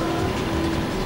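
The Phantom car's engine in the PS1 racing game Need for Speed: High Stakes hums as a steady, even drone with a constant tone, close and fairly loud for about a second.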